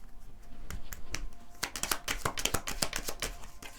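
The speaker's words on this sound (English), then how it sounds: "These cards are so small, it's kind of hard to shuffle them." Small tarot cards being shuffled by hand: soft scattered taps at first, then a quick burst of riffling clicks and snaps, close and faint, with no talk.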